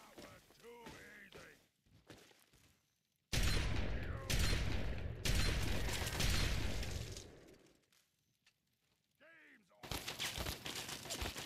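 Heavy bursts of gunfire in Fallout 3, loud sustained volleys cutting in and out with short gaps, interspersed with quieter stretches where speech-like vocal sounds surface between the shooting.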